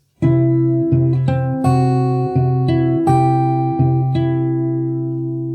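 Slow fingerstyle guitar picks out an opening, a sustained bass note with about eight evenly spaced plucked chords ringing out one after another, close and solo with no talking.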